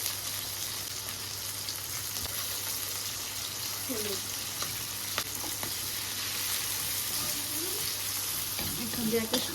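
Garlic sizzles in hot oil with black cumin seeds and two dried red chilies in a home kitchen, crackling steadily and close throughout, with occasional stirring clinks and faint background sounds.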